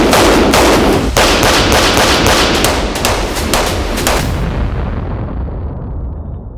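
S&W 5.7 handgun firing a rapid string of about a dozen loud, sharp gunshots at close range, each with a booming echo, then a fading tail once the firing stops.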